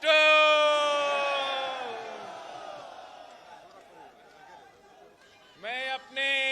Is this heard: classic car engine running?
no